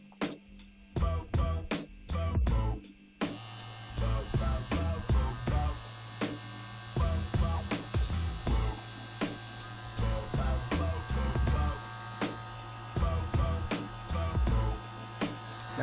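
A vacuum chamber pump pulls air bubbles out of silicone with a steady droning hum and a dense, rapid chattering pulse. Louder clicking bursts come at the start, then settle into a continuous mechanical rattle with no voices.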